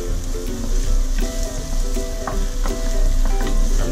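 Chopped onion sizzles and fries in a pot, a dense steady crackle with scattered pops and occasional scraping stirs, close and fairly loud throughout.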